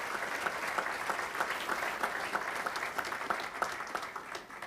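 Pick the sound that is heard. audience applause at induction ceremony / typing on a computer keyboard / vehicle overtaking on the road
audience applause at induction ceremony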